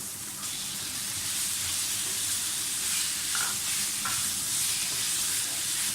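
Chicken pieces sizzle and fry loudly in a hot pan for a chicken tikka macaroni masala dish, a steady bright hiss with a couple of stirring scrapes and no voices.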